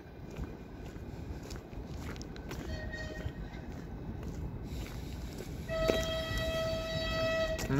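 A Russian Railways train pulls away with a steady low rolling rumble throughout. Sustained high metallic squealing tones appear near the end as it gathers motion.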